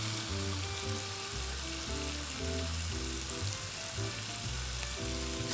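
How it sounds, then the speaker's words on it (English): Beef browning on the sauté setting in an Instant Pot for a barley stew, a continuous sizzle and spatter under a low stuttering rumble from the pot, steady throughout with no voices. "The meat is getting brown,"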